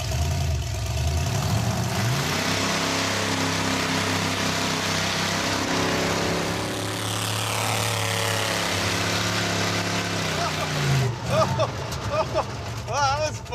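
A car revs and accelerates down a dirt drag strip, a loud sustained engine drone that rises in pitch and then fades, followed by a burst of chatter and clatter at the end.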